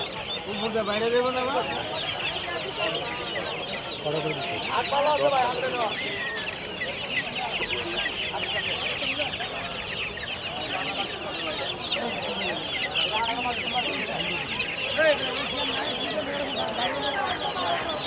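Many chickens cluck and cheep continuously amid a busy, noisy crowd at a weekly village poultry market in Bangladesh, with people talking in the background throughout.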